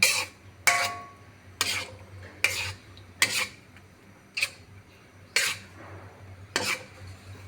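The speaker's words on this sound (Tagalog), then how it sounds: "atin po siyang halo-haloin" A utensil stirs spaghetti sauce in a pan with a steady rhythm of about nine sharp clinks and scrapes against the metal, close and clear over a faint background hum.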